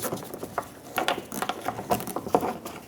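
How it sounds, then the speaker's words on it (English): A small Phillips screwdriver backing a screw out of a 2006-2011 Honda Civic rear bumper cover, with quick, close, irregular clicking and ratcheting ticks that keep a steady pace. "Get a little screwdriver in there and remove the screw."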